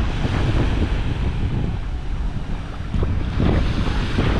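Waves wash onto a public beach near the cruise ship docks in Nassau, Bahamas. Steady wind buffets the microphone throughout, with rolling surf close by and no voices.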